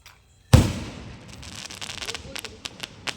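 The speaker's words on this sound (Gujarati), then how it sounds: "ધમાકો તો હેવી થયો છે." Firecracker going off with one sharp, loud bang, followed by a tail of crackling and scattered pops.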